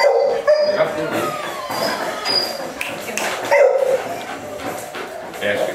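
A dog in an obedience-training session lets out a few high yips and soft whimpers, scattered over about six seconds amid busy background noise.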